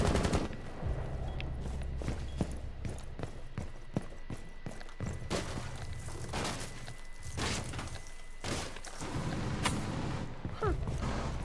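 Rapid gunfire from Rainbow Six Siege rattles in repeated bursts and single shots over a dense game background, loud and close, with no talk.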